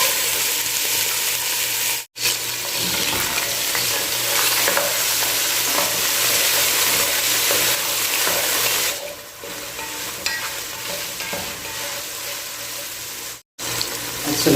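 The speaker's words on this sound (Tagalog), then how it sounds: "Lagay tayo ng mantika para sa pagigisa natin. Unahin natin yung ating chicken mga ka-recipe." Chicken pieces sautéing in hot cooking oil for pancit canton, a steady loud sizzle with brief stirring breaks and two sharp cuts in the sound.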